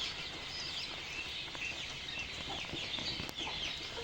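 Chickens and chicks that have slipped out of their cage cluck and chirp faintly on a quail farm in Lalmonirhat, with soft, scattered calls over a steady background hum.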